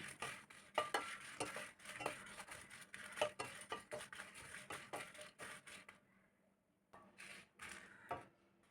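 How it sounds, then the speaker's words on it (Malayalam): Dried red chilies dry-roasting in a pan with no oil, stirred with a utensil that scrapes and taps the pan in a steady, busy rhythm of clicks and rustles, pausing briefly near the end before a few final scrapes. "അതിലേക്ക് ഉണക്കമുളക് ഇട്ട് കൊടുക്കാം ഇത് നല്ല വണ്ണം ഒന്ന് മൂത്ത് കിട്ടുന്നിടം വരെ വറുത്തെടുക്കാം"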